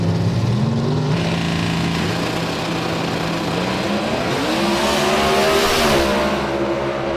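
A C Super Modified race car with a small block Chevy engine and Liberty transmission roars loudly nearby at a competition eliminator race in Noble, Oklahoma, its engine pitch climbing and shifting as it revs.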